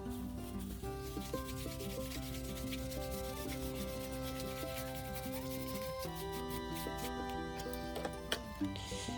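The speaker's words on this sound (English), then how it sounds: "Paint it on and then wipe it off." Soft, steady rubbing of antique wax being wiped onto wooden boards, a quiet continuous scrubbing texture with faint ticks and no speech.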